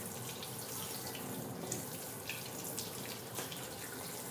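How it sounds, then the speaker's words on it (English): Tap water runs steadily into a sink as vegetables are rinsed for kabobs, a continuous close hiss and splash with faint drips, no talking. "I'm gonna rinse it off real good"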